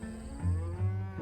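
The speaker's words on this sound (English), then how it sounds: "home to hundreds of thousands of cows" Cattle on an open ranch give two deep, close mooing calls in quick succession, low and resonant, with no talking.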